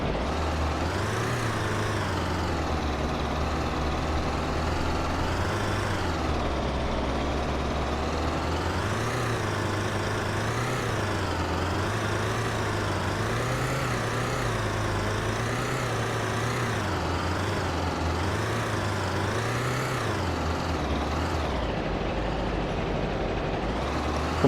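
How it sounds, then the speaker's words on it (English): A Jeep Willys engine in the Dreams video game drones steadily and loudly as the vehicle, running on springs without shocks, drives in high gear over bumps, its pitch rising and dipping in waves. "let's throw this thing in high and just see what the suspension and the vehicle handles like"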